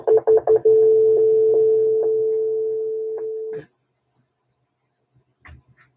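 Telephone keypad tones: a quick run of about five short beeps, then one long steady tone lasting around three seconds, followed by silence and a faint brief rustle.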